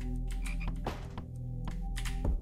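A frog croaks in the video game House, a steady run of low, buzzing croaks with sharper clicks and thuds over a continuous game backdrop, loud and close.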